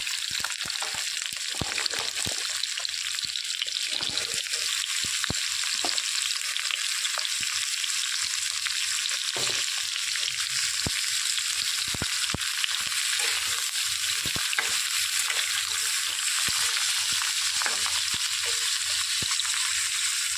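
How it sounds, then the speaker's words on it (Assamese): Pieces of pointed gourd fry in oil with salt and turmeric over a low gas flame, giving a steady, close sizzle with occasional clicks of stirring. "নিমখ আৰু অলপ হালধি দি মই অলপ সময় ভাজি ৰাখিম। লৰাই লৰাই ভাজি ল'ম ভালদৰে।"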